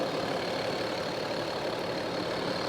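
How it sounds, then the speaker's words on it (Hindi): A BMW X7's 3-litre inline six-cylinder diesel idles with the engine bay open, giving a steady, even, moderately loud hum and clatter that holds unchanged throughout, with no voices. "ये 3 litre inline 6 cylinder diesel engine है"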